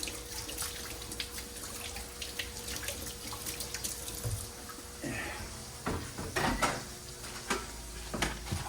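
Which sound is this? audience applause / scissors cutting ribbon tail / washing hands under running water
washing hands under running water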